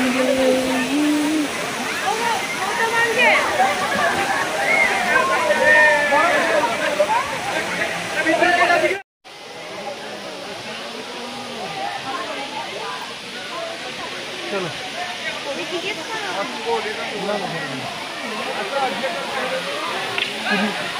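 The Dabarkhola waterfall at Deojhar roars as a loud, steady rush of falling water that fills the scene, briefly cut off once before resuming, while people talk over it.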